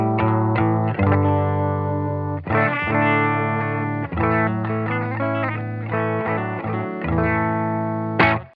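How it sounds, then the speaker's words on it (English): A Sipe Guitars OH19 electric guitar runs through a Silk Tone amp, giving a driven, slightly chorused tone as chords and single notes ring out in a steady strummed phrase, with no talk over it. "Silk Tone amp sounds like this"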